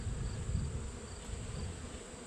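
Bees buzz around a hive in a close, steady drone, faint but continuous for a couple of seconds with no voices.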